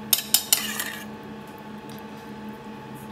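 Cutlery clinks sharply against a plate three times in quick succession as fricassee is spooned onto it, followed by quiet soft scraping and one last clink.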